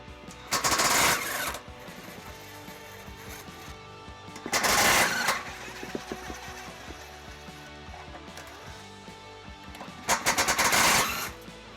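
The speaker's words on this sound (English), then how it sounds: "We'll use the deep well sockets to remove those." Bolts near the rear hitch area of a 2012 Dodge Grand Caravan being removed with a ratchet and deep well sockets, as three loud bursts of rapid mechanical rattling separated by quieter workshop background, close up and without talking.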